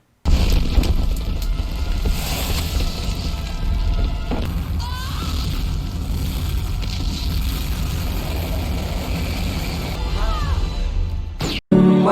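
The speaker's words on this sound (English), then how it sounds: "There's a nuke-like explosion" A huge nuke-like explosion in the animated film Final Fantasy: The Spirits Within, a loud sustained roaring blast rumbling continuously for several seconds before cutting abruptly, then a short burst of sound resuming.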